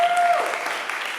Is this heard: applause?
yes